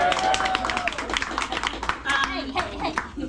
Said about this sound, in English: clap for marriage,